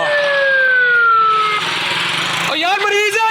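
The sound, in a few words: ambulance siren in Lahore traffic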